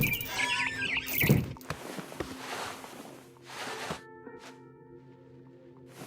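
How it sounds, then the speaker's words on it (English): A barn swallow chirps in the game What Remains of Edith Finch, with a few bright, close calls near the start amid thuds and rustling game sounds, then quieter tones. "Then I heard chirping outside my window. It was a barn swallow going back to her nest."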